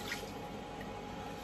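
Water is poured into a Mambo cooking robot while fish in sauce is being made, a steady splashing trickle of liquid that runs briefly and evenly without talk.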